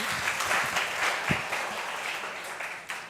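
A crowd applauds Viola at an Equity Leaders Program event, a steady wash of clapping from many hands that holds for the whole stretch.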